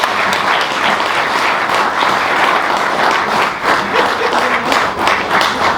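Loud, sustained audience applause at a conference ceremony, many hands clapping in a dense continuous wash with a few brief dips, no voices on top.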